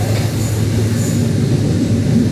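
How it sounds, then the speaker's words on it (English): Train running from Kuala Lumpur to Singapore, with a steady loud rumble of wheels on rails heard from onboard, continuous and close with no talking. "This is our last mode of transport, a train to Singapore from KL."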